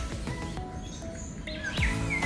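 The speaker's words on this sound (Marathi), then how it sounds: "ते फक्त पक्षीच पक्षी आहेत सगळे." Birds chirp and tweet in a netted free-flight bird park in Singapore, with short bright calls, a few louder nearby notes and background hum.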